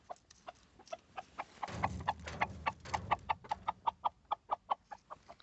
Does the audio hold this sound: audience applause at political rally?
no